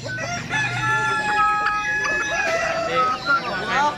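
Roosters and hens at a chicken expo fill the air with overlapping crows and clucks, several birds calling close by amid a crowded hall with people talking in the background.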